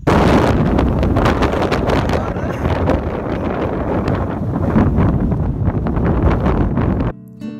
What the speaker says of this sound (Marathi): वारं खूप फास्ट वाहतं इथं